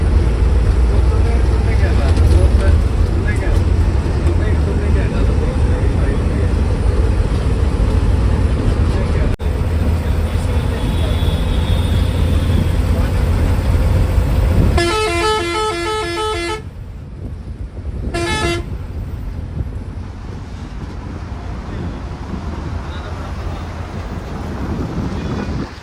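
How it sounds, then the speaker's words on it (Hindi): Heavy Delhi road traffic heard from inside a moving bus: constant loud engine rumble and road noise fill the whole stretch, with a sharp, tonal horn blast around the middle and a second short honk soon after, plus scattered talk underneath. "तो कुछ ऐसा है दिल्ली का भारी भरकम ट्रैफिक"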